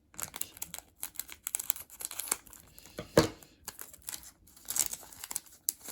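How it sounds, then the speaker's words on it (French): Close crinkling of a Pokémon card booster pack's plastic wrapping as scissors cut it open, with a few sharp snips and rustles, irregular and near, with no talking. "Heureusement j'ai les ciseaux. La tricherie. Allez, on y va aux ciseaux."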